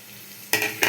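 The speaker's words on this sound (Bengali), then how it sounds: "পেঁয়াজ আর রসুন একটু ভাজা ভাজা হয়ে গেলে এর মধ্যে আমি ছেড়ে দেবো টমেটো কুচি, একটু লবণ, শুকনো লঙ্কার গুঁড়ো আর হলুদ গুঁড়ো" Onion and garlic frying in a pan as chopped tomato, salt, chilli powder and turmeric are added for a fried fish dish; quiet at first, then a sudden loud burst of sizzling that dips briefly and returns.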